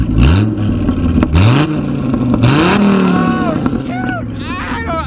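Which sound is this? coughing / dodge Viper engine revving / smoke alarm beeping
dodge Viper engine revving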